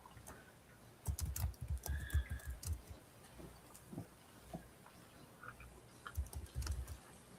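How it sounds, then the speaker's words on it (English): Rapid clicking taps on a computer keyboard come in uneven bursts, moderately loud and close, with short pauses between runs of keystrokes and no talk over them. "I hear typing."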